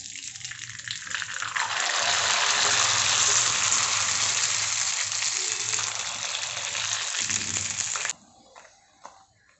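Frying in hot oil while cooking for a puran poli naivedya, a steady loud sizzling hiss that swells, holds for several seconds, then cuts off abruptly.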